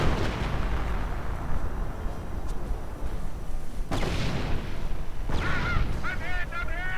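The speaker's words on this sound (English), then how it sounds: "Hitting a few mines on the retreat" Tanks run over mines and blow up in the World War II strategy game Company of Heroes, with sharp explosive booms bursting out of a continuous rumble of battle and gunfire.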